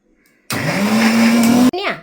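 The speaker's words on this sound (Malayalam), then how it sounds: "മിക്സിയിൽ ഇട്ടിട്ടുണ്ടോ ഒന്ന് അരച്ചെടുക്കട്ടെ" A kitchen mixer grinder grinding raw tapioca starts abruptly, runs as a loud, steady whirring whine whose pitch rises slowly, then cuts off. A voice is heard briefly after it stops.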